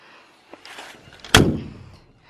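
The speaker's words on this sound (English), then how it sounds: "This is the door into the bays in there." The door into the horse bays of a new horse trailer opens with a sharp metallic clank of the latch, followed by a short rattling decay, after some quieter handling noises.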